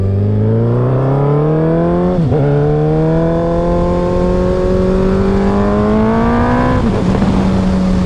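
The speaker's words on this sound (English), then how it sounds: "It has like an awesome backfire. Every single every single shift that has a backfire." Suzuki Hayabusa 1300 motorcycle revving hard, its engine rising in pitch through the gears with sharp pops and crackles at two shifts, loud and close.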